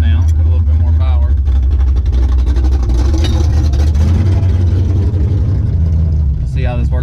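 A turbocharged drag car, a radical street build with turbo 2V power, roars loudly and steadily through a launch on a drag strip pass, the heavy engine drone filling the whole stretch with people talking over it.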